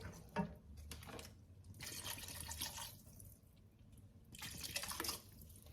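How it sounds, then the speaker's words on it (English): Water is poured into a thick meat sauce of ground meat and canned tomato in a single pan, making a steady, faint trickling and splashing that runs for several seconds with no talk. "And I'm going to add a little bit more water because it's still a little bit thick."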